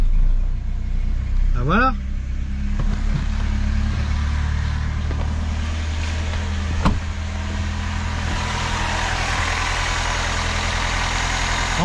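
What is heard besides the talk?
Peugeot 309 GR engine starting and idling after 20 years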